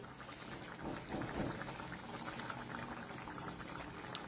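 Bombay duck and green chilli chutney simmering in a pan, giving a steady soft bubbling with a slightly louder burst early on, continuous and alone without voices.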